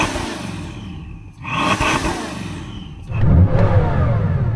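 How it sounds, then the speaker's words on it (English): Lamborghini engine revved hard in a stationary sound check against a soft rev limiter at 4,000 RPM, a loud close roar that swells, dips briefly, then climbs again with a heavy low rumble. "So I am going to rev up this engine."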